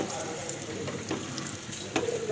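Garlic cloves frying in hot oil for a beef and taro-leaf dish, a quiet constant sizzle with a few light stirring scrapes, close up and free of talk.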